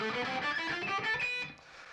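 Electric guitar with an effects unit and distortion running an Aeolian mode scale in a three-notes-per-string pattern, a quick stream of sustained distinct notes that drops off sharply near the end.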